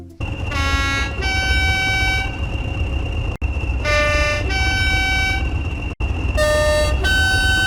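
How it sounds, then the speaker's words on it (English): Locomotive horns from the Train Sim World game on the West Coast Main Line between Crewe and Preston sound in loud two-tone blasts, each about one to two seconds long, repeated in three pairs over a steady engine rumble. "it comes with new horn sounds which I will compare now"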